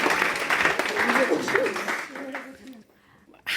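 A round of applause from an audience follows a demonstration, a dense wash of clapping under some talk that fades toward the end.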